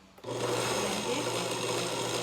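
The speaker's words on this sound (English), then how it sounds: "Blend it." A kitchen blender blends five eggs for leche flan. The motor starts abruptly and keeps a steady, close whirring drone for about two seconds.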